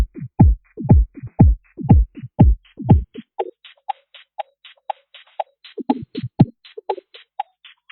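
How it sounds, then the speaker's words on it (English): A drum beat loop run through Logic Pro X's Spectral Gate, turned harsh and digitally aliased: punchy low hits give way to thin, gritty, chirping pulses in a quick repeating pattern, alone and up front. "so we've got this really amazingly kind of early digital aliasy, quite nasty sound"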